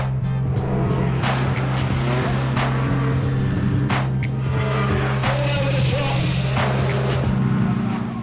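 Banger racing cars roar around the Arena Essex racetrack, a steady loud engine drone with repeated crunches and knocks from contact, heard continuously from trackside.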